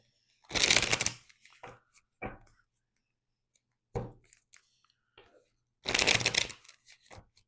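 Tarot cards being shuffled during a reading, two loud riffle bursts near the start and end with softer card taps and slides between, close up against a quiet background.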